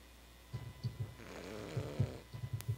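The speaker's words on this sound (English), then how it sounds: "Snoring." Snoring in a quiet room, a low rhythmic series of rumbling breaths that swell and fade in regular pulses, close and fairly soft.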